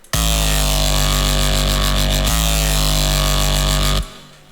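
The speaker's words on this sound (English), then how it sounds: "Here's the distortion with Camel Crusher." A thick, buzzing synth bass distorted with the Camel Crusher plugin holds a sustained note, briefly retriggers midway, then cuts off abruptly.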